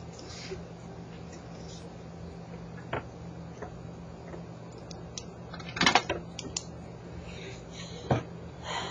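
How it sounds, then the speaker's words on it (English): Pens click during a classroom math lesson, scattered sharp clicks and taps with a louder cluster near the end, close and set against a quiet room hum. "The clicking of these pens may be the death of me."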